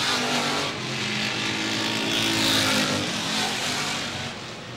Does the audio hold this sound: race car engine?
yes